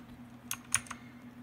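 A few quick clicky keystrokes on a Motospeed CK-62 mechanical keyboard with blue switches, close and crisp against a quiet background.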